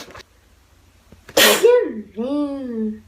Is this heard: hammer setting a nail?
no